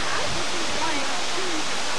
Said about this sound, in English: It's a fantastic series of waterfalls, and the most spectacular one is Thornton Falls at the very top there.